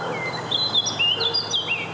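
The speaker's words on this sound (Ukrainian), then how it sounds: "беззупинний спів птахів" Small songbirds sing and chirp continuously in the wooded garden of a state country estate among tall thujas and spruces, bright overlapping calls near and clear over a low steady hum.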